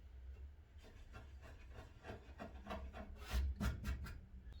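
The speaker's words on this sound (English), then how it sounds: "A very sharp chisel, we can't use a blunt one." A sharp chisel pares wood by hand to cut a butt hinge recess in a door, giving soft, close scraping strokes in a steady rhythm, with a slightly firmer cut near the end.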